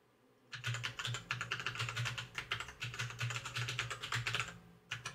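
Rapid, uneven typing on a computer keyboard, close and clear, as sign-up details are entered on a website, with bursts of keystrokes and no voices.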